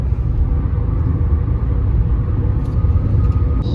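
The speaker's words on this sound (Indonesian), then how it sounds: "Wah, masuk suara truk ya." A truck passes on a highway, heard from inside a moving Honda CR-V Turbo: a loud, steady low rumble of engine and road noise that stays constant throughout.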